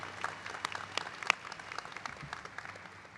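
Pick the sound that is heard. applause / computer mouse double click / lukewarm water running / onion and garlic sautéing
applause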